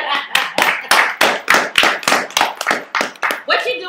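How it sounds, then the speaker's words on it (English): A studio audience at a talk show claps in a brisk round of applause, sharp close hand claps repeating steadily at moderate loudness for a few seconds. "let's give a round of applause for Mr. Scalawa, who is in the building."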